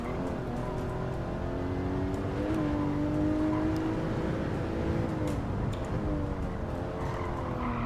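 A Porsche in a VR racing video game drives with a steady, droning engine note that rises and falls through the gears, alone and fairly loud throughout.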